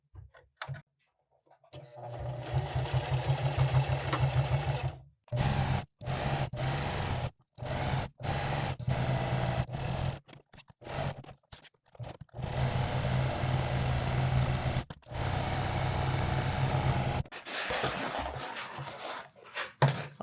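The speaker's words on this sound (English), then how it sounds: "then we'll put it on the sewing machine and we'll start sewing this together." A sewing machine stitches Velcro and webbing straps onto fabric for a shooting range bag. It whirs in repeated runs, some long and some very short, separated by abrupt stops.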